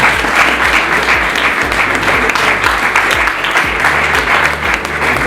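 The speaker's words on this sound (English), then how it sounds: "With a round of applause," A forum audience in Accra gives sustained, loud applause to welcome a speaker at the ACCAD Forum, dense continuous clapping with low rhythmic music pulsing beneath.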